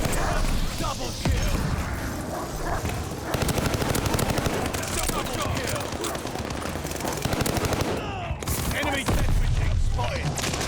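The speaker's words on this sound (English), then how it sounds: "Too many explosives." Dense gunfire and explosions in the video game Call of Duty: Vanguard, with near-continuous rapid automatic shots and heavy booms throughout, loud and chaotic, and a voice talking over parts of it.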